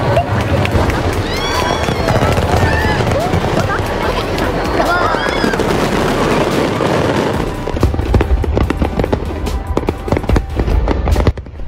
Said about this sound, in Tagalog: Ganto namang kasatisfying panoorin ang fireworks display sa Japan.